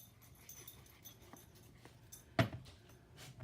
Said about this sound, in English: Oh, here comes my dog.